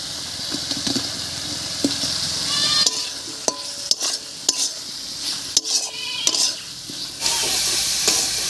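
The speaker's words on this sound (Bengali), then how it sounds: "মশলার সঙ্গে আলুটাও খুব ভালো করে কষে গেছে" Boiled potatoes are fried with spice paste in a pan, with a constant sizzle and repeated scraping and clinking of a metal spoon against the pan, close and clear.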